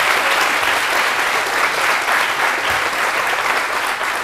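Dense, steady applause from young people in a television studio audience, loud and continuous throughout with no pauses or talking over it.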